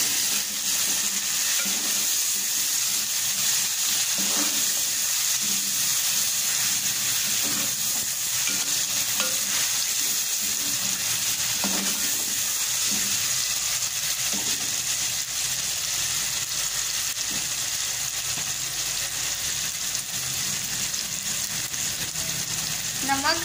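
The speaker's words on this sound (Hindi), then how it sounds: "यहाँ पे लहसुन फ्राई हो गया, खुशबू होने लग गई है। अब इसमें टमाटर ऐड कर देंगे।" Tomatoes hitting frying garlic in a pan for Lahori white chickpea curry, a continuous bright sizzle with occasional stirring clatters, close and steady throughout.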